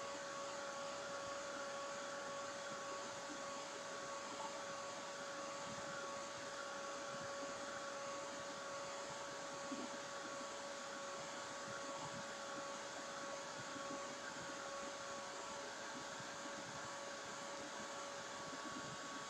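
A heater blows steadily to dry paint on a canvas, giving a continuous broadband whir with a faint tonal hum that stays constant throughout, with no talking.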